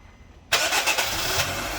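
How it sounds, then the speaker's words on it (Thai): A car engine restarts during a battery cold-cranking test: after near silence, a brief crank catches abruptly into a loud, rough idle that settles into a steady running hum. "ดับเครื่องแล้วสตาร์ทใหม่ครับ"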